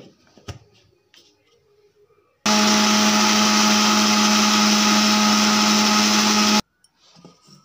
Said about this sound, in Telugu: మిక్సీ అయితే పట్టేసుకుందాం.